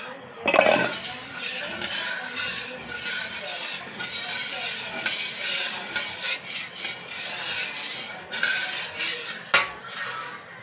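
A utensil stirs the maja blanca mixture in a pot with continuous scraping and clinking, including a sharp clank near the start and another near the end, while a voice speaks faintly in the background.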